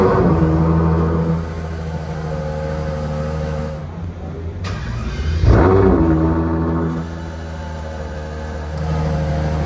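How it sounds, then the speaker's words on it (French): A Ferrari Monza SP2 in Monaco fires up and runs with a deep, close, steady engine rumble. The note swells with a brief rev about halfway through, then settles back to a smooth idle. "On démarre Ferrari Monza SP2"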